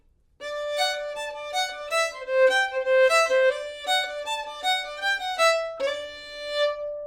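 Solo fiddle playing the B-part melodic variation of La Bastringue, a French-Canadian reel, bright bowed notes in a lively steady rhythm, close and alone.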